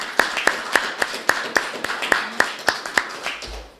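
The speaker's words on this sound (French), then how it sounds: "Puis je pense que ça mérite un petit peu d'applaudissements." Steady rhythmic handclapping at a council meeting, about a dozen sharp claps at an even pace, fairly close, with no voices, ending abruptly.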